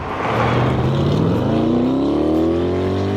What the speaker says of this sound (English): I'm gonna go down and just do a launch from a dig.